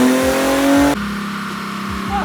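Tuned Infiniti G37 on a dyno, the engine droning loud and high at sustained revs before abruptly dropping to a lower steady roar, close and dominant.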